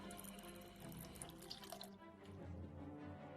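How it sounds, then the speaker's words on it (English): A water bottle fills at a tap in the Shots Fired: Locked and Loaded video game, a faint steady rush of running water that shifts in tone partway through, with no talking. "we're going to fill up the water bottle for later."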